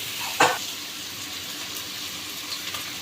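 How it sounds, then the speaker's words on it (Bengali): Spices sizzle as they are fried in oil for chickpea bhuna, a steady close hiss with a single sharp clink early on and no talk. "মশলাটা ভালো করে কষা নিতে হবে, কারণ ছোলা ভুগনা মশলা কষানোতেই স্বাদ হয়"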